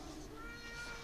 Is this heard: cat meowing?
yes